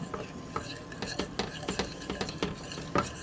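A spoon stirs a thickening charcutière sauce with Dijon mustard and gherkins for pork chops, giving soft, irregular scraping and clinking taps against the pan, faint and close, with no voices.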